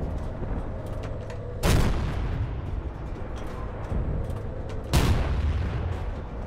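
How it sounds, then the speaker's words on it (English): Gunfire and blasts in Battlefield 1943 over a constant battlefield rumble, with two heavy booming impacts a few seconds apart and scattered smaller shots in between, all fairly loud. "Just randomly fire on people."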